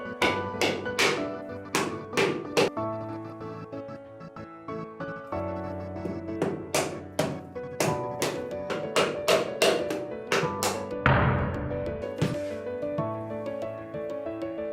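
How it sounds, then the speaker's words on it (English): Repeated hammer blows on a coconut shell come in uneven bursts, some quick and clustered, some spaced apart, with a rougher, crunchier hit near the end. "Keep hitting it a bit, it will crack."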